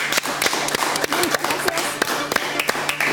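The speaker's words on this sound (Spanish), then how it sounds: "la recibimos con un aplauso" Studio audience at a Spanish-language science TV show clapping to welcome a female guest, a bright, fairly loud patter of hands with a few sharper claps standing out, under no talk.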